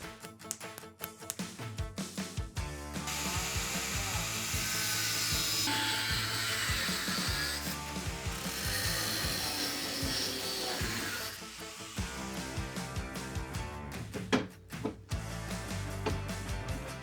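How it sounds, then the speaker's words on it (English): Sandpaper of 240 grit rubs back and forth on a custom DIY sissy bar for a Harley-Davidson Sportster, a steady, loud hissing scrub lasting several seconds amid workshop clatter and short pauses. "So once again, I'm sanding with the 240"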